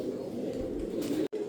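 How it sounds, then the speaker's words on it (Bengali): A female white racer pigeon cooing, a low, soft, continuous throaty coo close by that breaks off briefly near the end. "শুরুতেই একটা হোয়াইট রেসার একটা মাদি কবুতর দেখাবো"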